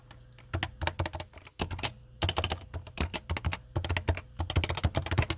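Someone types a URL into a Chrome browser on a computer keyboard, producing close, crisp bursts of rapid keystrokes in several runs separated by short pauses, with no talking.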